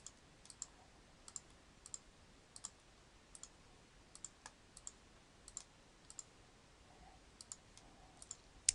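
Light plastic key presses on a calculator as values are entered, a steady series of small, faint clicks at an even pace with no talk.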